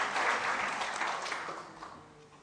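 A church congregation claps briefly during a Sunday service sermon, a short burst of applause that starts full and fades away within a couple of seconds.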